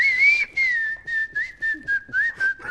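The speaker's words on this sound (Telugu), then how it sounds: "చెప్పు విజిల్ లో ఈ పాట." One person whistles a film song alone, a clear, close tune of sustained notes broken into short phrases and quick trills.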